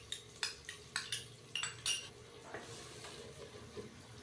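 Finely chopped tomatoes and green chillies tipped into a cooking pan for village-style aloo kadhi, with a run of sharp metallic clinks and scrapes of a utensil against the pan, then a soft sizzle over steady background hum.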